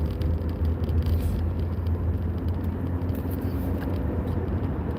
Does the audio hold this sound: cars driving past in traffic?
yes